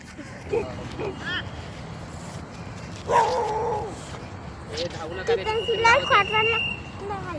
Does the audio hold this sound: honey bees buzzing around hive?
no